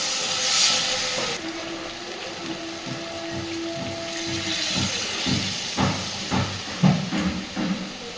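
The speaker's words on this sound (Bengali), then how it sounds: "এইবার দিয়ে দেবো পরিমাণ মতো জল।" Water poured into hot masala for potol kofta curry, a loud close hiss and sizzle bursting out, then settling into steady bubbling and spitting, with no talk.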